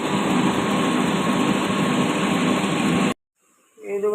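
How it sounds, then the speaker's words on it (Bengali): Cooling machine at a potato cold storage plant running with a steady, dense mechanical hum and whine, loud and unbroken for three seconds before cutting off abruptly, leaving quiet with faint background sounds. "আমি যেখানে ডিউটি করি আলুর ঠান্ডা রাখার মেশিন।"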